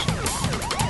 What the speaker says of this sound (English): alarms, sirens.